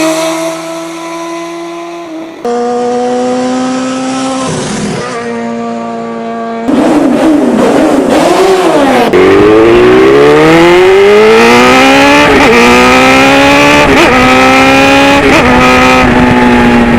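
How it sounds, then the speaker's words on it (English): Motorcycle engine heard while riding through traffic, loud and steady throughout, with rising and falling revs as the bike shifts gears and accelerates, no talk over it. "I love listening to my motorcycles, man."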